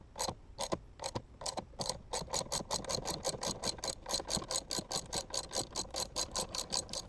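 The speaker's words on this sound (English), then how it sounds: "fit your 2-arm puller in between the base cover and wiper arm and start tightening it down" A ratchet clicks steadily while a two-arm puller is tightened to separate a wiper arm from its base on a Porsche Cayenne, in evenly spaced, close, crisp mechanical ticks that speed into a regular rhythm with no talking.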